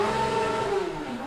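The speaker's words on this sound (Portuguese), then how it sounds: "o randandandan da moto lá fora" A motorcycle revs outside, a steady loud engine drone with a rising and falling pitch, heard alone with no talk.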